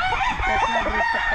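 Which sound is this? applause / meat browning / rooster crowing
rooster crowing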